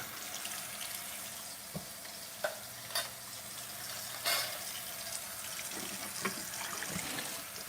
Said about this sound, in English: gotta rinse out these cans of tomatoes